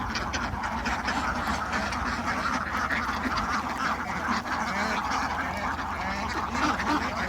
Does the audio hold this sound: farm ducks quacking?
yes